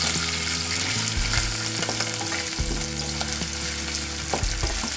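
Onion fries in a pan of chili and black soy sauce with a steady, close, bright sizzle and crackle, joined by faint stirring scrapes and no talk.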